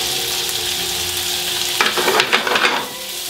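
Potato slices sizzle steadily in a pan with a knob of melted butter, a loud close hiss, then a short flurry of scraping and stirring clatter partway through; no talking.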